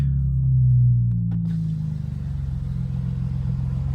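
A BMW M4 engine at high idle drones steadily inside the closed car cabin, with a brief thump as a door shuts early on.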